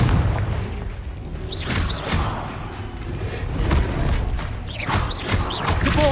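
Repeated Confringo spell blasts from Hogwarts Legacy burst out in quick succession, booming thuds and crackling impacts layered over busy combat noise, loud and close with no pause.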